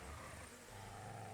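A dog in Kingdom Come: Deliverance 2 lets out a short, low, rumbling growl lasting barely more than a second.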